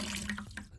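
Water splashes and pours steadily into a bucket as an aquarium fish, an orchid dottyback, is netted out, with a continuous close wash of running water and no speech.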